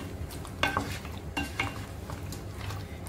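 Ingredients for mutton biryani being sautéed in a pan, with scraping spatula strokes and light metallic clinks over a faint sizzle, close and without talk.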